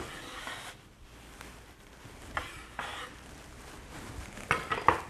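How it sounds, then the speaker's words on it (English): Chopped cashews are tipped into a bowl in a kitchen, with a few light clinks and brief scraping taps against the dish over a quiet background. "Cashews into the bowl."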